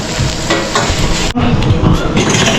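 A fresh anchovy (dilis) mixture fries in hot oil with a loud, dense, continuous sizzle up close, broken only by a brief dip as more batter goes in.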